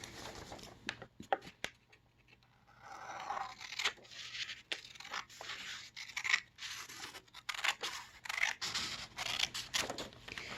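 Paper scissors snip down the middle of a folded double bead bar card, giving a string of short, close, crisp cuts and rustles with brief pauses between them. Nobody speaks.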